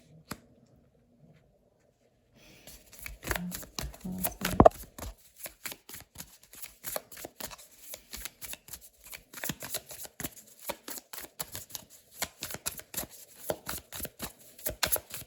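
Tarot cards being shuffled and drawn by hand, a steady run of close, crisp riffling flicks and soft slaps that begins after a short quiet stretch and continues without talk.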